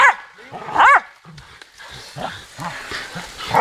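Hunting dogs bark and yip excitedly at close range in several sharp bursts during a wild boar hunt, mixed with rustling and brief voices.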